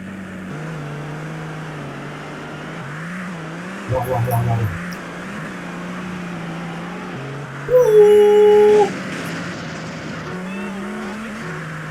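A sports car racing fast in GTA San Andreas, its steady engine drone holding and shifting in pitch under an excited speaker's talk, with a brief loud burst partway through.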